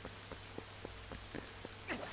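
Steady rain falls in The Legend of Zelda: Twilight Princess HD as a soft, even hiss, with a low constant hum beneath it and faint droplet ticks at regular intervals.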